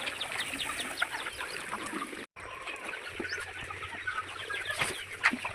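Free-range chickens cluck steadily while feeding on a farm, a busy flock chattering close by with scattered louder calls and a brief dropout midway.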